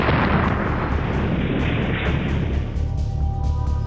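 A car packed with explosives is blown up by security forces. A loud, dense blast roar fills the clip with rumbling debris noise, then slowly fades toward the end.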